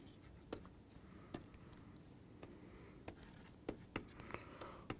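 Chalk or marker strokes on a board during a university maths lecture on finite abelian groups, quiet scattered taps and scratches with sharp clicks, no talking.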